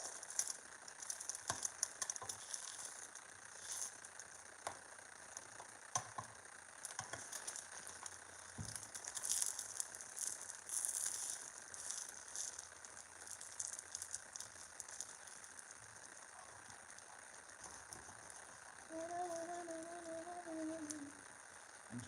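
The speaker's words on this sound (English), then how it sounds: "don't have a really good pan for fried eggs" Eggs fry in a pan that is not ideal for eggs, making a faint, steady crackling sizzle with scattered pops and rattles.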